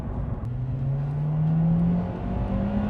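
Honda Civic Type R engine (EP3 or FK8) revving up as VTEC engages, a steady rising drone climbing in pitch over about two seconds, loud and close from inside the car, with no voices.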